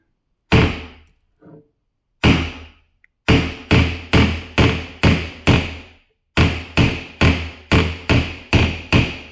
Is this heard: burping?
no